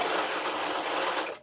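A sewing machine runs steadily while stitching a Butterick vintage playsuit pattern, producing a close, even whir that cuts off abruptly at the end.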